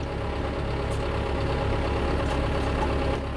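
A tractor engine runs steadily in a vineyard during GPS and laser-guided planting, giving a constant close, droning rumble with no change in pace and no voices.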